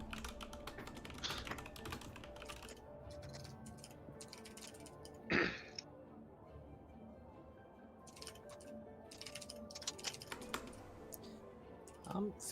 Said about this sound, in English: I am still typing up the information I gotta give you guys